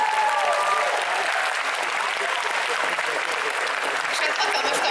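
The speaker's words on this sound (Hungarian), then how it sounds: "És hát nagy tapsot a zsűrinknek" An audience at a cosplay convention gives the competition jury loud, dense, sustained applause that fills the hall steadily from start to finish, with a voice faintly heard briefly at the start.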